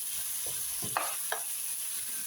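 Tomatoes frying in plenty of oil, a faint steady sizzle with a few soft utensil stirs and light clinks against the pan.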